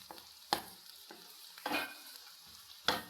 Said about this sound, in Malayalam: ഒന്ന് ഇളക്കി കൊടുക്കാം ഇപ്പം ഉള്ളിയൊക്കെ ഒരു മീൻ ചടങ്ങ്